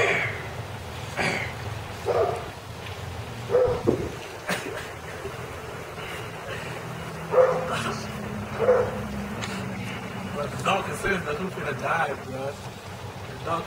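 A dog barks in short, scattered bursts under steady talking between several people, never standing alone.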